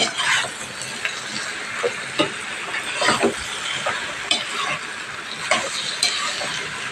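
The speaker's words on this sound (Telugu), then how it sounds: "కొత్తిమీర, ఉల్లిగడ్డ అన్నీ మంచిగా పట్టేటట్టు మిక్స్ చేసుకోవాలి" Coriander and onion being mixed in a hot pan, with a continuous soft sizzle and repeated scraping, stirring knocks at an irregular rhythm, close and fairly loud.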